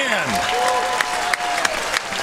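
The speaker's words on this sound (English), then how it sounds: "And this crowd is really making some noise for what we just saw." A crowd applauds and cheers a point at a men's pro pickleball semifinal. Steady clapping is mixed with whoops and voices.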